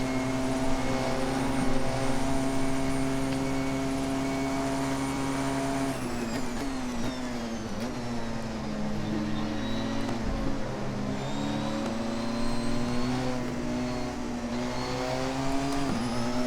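A Porsche 919 hybrid race car in Assetto Corsa runs at Spa, its engine whining steadily high, then dropping and climbing through gear changes with tonal sweeps, loud and close, with no talk.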